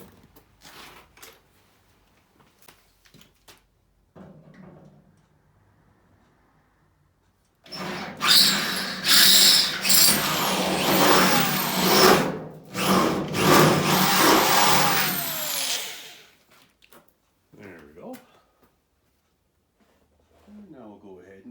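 Power drill boring into a car passenger door, a loud whining burst of about seven seconds with a short break midway, framed by quieter stretches where someone talks.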